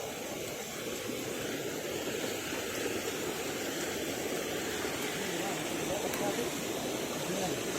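Forest stream water flows in a constant, moderate rush, a low rumble running beneath it.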